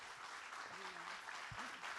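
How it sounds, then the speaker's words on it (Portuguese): Faint, distant applause comes from an audience at a book fair conversation event with a singer. It is a soft, continuous wash of clapping, with a brief voice murmuring underneath. "Vou levar esses aplausos para minha mãe."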